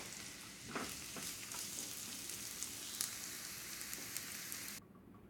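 Onions and minced garlic sizzle steadily in a pan, a dense close crackle with occasional sharper pops, before the sound cuts off abruptly.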